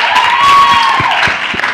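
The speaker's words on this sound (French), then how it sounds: "On applaudit pour lui." Students at St Ignace High School applaud a classmate, a brief burst of clapping with some cheering and a sustained whistle or tone, fairly loud and close.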